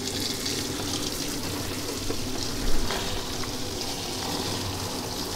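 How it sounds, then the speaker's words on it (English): Tap water runs steadily into a bottle while shampoo is being mixed, a continuous broadband splashing rush that holds at an even level throughout with a brief louder gurgle midway. "And I have turned my water on here."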